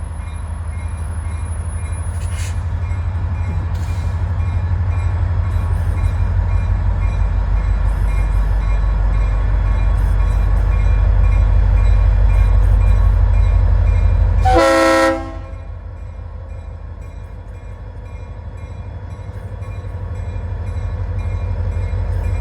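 Train passing in Saint Augustine with a loud, sustained horn blast over the heavy rumble of the locomotive, the horn cutting off midway as the engine roar drops, leaving a steady lower rumble throughout.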